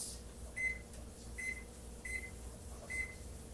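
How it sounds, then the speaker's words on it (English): Oven timer being set while pork ribs cook, four short high electronic beeps spaced evenly about a second apart over a steady low hum. "We're going to set the timer for 15 minutes."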